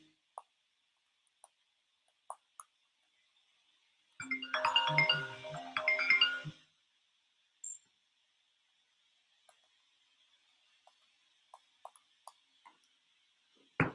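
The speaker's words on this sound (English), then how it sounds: "my phone just keeps on ringing," A mobile phone rings indoors in one loud burst of about two seconds, with a quiet room and faint scattered ticks before and after.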